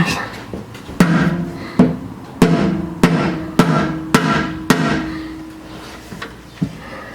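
A rubber mallet taps a steel oil pan into place over its bolts on a 1929 Ford Model A. About seven sharp, close knocks come at uneven intervals, with one fainter tap near the end against a quiet workshop background.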